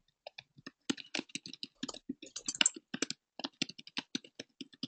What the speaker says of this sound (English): Can hear frantic typing.